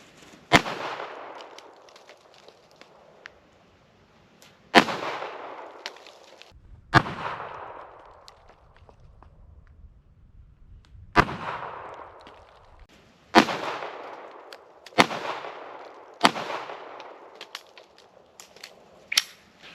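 Ruger LCP pistol firing hollow-point rounds at a cantaloupe and a pineapple: seven sharp, loud shots spaced irregularly across the stretch, each with a short ringing decay, and no voices between them.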